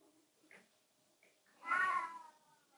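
A cat meows quietly indoors during a yoga session, with a faint early chirp followed by one longer, louder drawn-out meow, with no talking.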